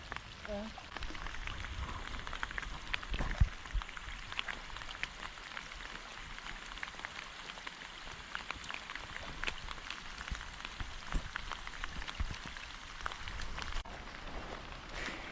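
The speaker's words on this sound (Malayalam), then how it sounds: "നല്ല മഴ പെയ്യുന്നുണ്ട് കേട്ടോ അവിടെ" Steady rain patters and hisses on surfaces nearby at a riverside fishing spot, a dense continuous downpour with scattered louder drops throughout.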